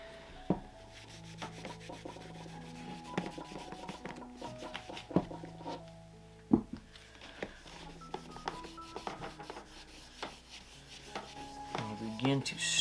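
A cotton ball is rubbed over Allen Edmonds St. John's monkstrap leather shoes to strip the factory finish. It makes soft, scattered rubbing with faint scraping. Muffled tonal background sounds and occasional clicks run under it.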